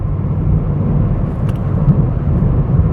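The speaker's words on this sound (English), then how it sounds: "And again, I can stay in fourth, going back uphill. We are accelerating," A small car pulls uphill in fourth gear with a steady, loud low engine drone and road rumble heard from inside the cabin, no talking.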